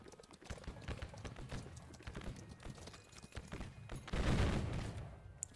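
Musket volleys in a Civil War video game: a crowded battlefield din of scattered rifle shots with hoofbeat-like clatter, rising into a denser, louder burst of fire near the end.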